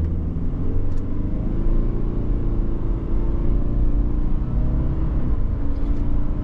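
A 2023 Subaru Forester Sport's naturally aspirated 2.5-litre flat-four engine pulling the car forward, heard from inside as a steady low engine rumble and road drone with mild rising revs.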